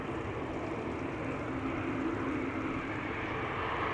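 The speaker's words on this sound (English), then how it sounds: "Air Baltic will be taking off from the runway threshold, so still a bit of taxi ahead of it" Air Baltic airliner taxiing at Amsterdam Schiphol, a faint, steady engine hum and rumble continuing evenly with no voices.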